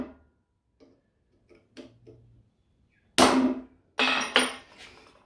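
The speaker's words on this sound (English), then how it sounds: "a small chisel. We'll just chase that out a little bit." A hammer taps a small chisel to chase and sharpen panel lines on Mk1 Ford Capri bodywork: faint scattered light ticks, then a few louder, sharper metallic strikes close by.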